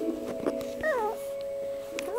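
A young dog gives a few high, wavering whines that rise and fall like a cat's meow, with faint background noise between them.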